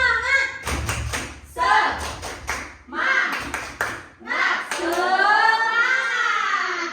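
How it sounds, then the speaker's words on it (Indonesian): Children in a classroom perform a rhythmic clapping cheer, sharp bursts of hand claps and thuds in a patterned beat alternating with loud chanted voices close by. "Tepuk semangat."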